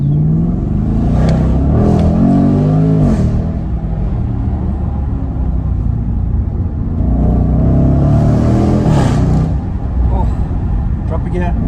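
A Jaguar F-PACE SVR in first gear rumbles loudly and revs up under hard acceleration, a deep, continuous engine roar close to the car, with a voice talking over it.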